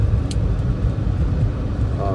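A Mercedes W124 car drives along with a steady low engine rumble and road noise heard from inside the cabin, loud and continuous, with a brief higher squeak early on.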